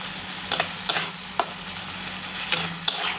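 Tomatoes sauté in oil in a pan, a steady broadband sizzle with a few sharp clinks and scrapes of a spoon stirring at irregular intervals, close and moderately loud with no voices.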